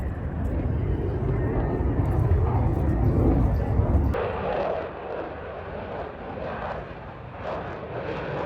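A fixed-wing aircraft roars overhead at an airshow above a beach, its broad engine noise strong at first and then cutting to a thinner, more distant drone.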